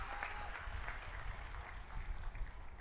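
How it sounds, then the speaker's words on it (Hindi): A crowd at an Aam Aadmi Party political rally in Gujarat gives dense, sustained applause that fills the whole stretch at an even level. "एक बार जोरदार ताली बजा दीजिए"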